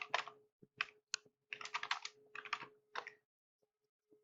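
An address is typed on a computer keyboard in quick, uneven bursts of close keystrokes with short pauses, ending in a few faint taps against a steady low hum.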